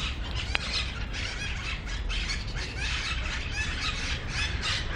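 Birds at a nest high up in a city send out a busy mass of squealing, squawking calls, steady and moderately distant over a low urban hum.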